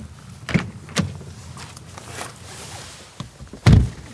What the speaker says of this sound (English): power-operated door handles spring out to allow you to enter